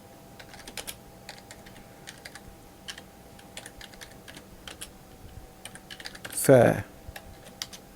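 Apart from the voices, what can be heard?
typing a prompt on a computer keyboard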